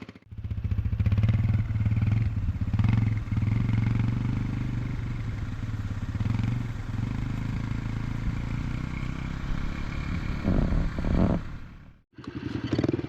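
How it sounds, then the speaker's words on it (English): A Yamaha TT-R125 dirt bike engine runs close and loud with a low, buzzing throb, rising with light throttle blips, then dips briefly before picking back up. "Bit of throttle, little bit of throttle."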